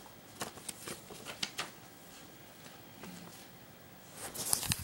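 A paper user guide for a Dbest PS4001 Solo mini speaker gets handled, giving soft, close rustles and flicks of paper in quick uneven bursts, faint overall with a slightly louder flurry at the end.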